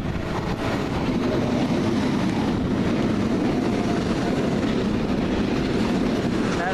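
A London Underground Piccadilly line train bound for Heathrow Terminal 4 rumbles loud and steady with a continuous low roar and faint rhythmic rail clatter, no speech heard.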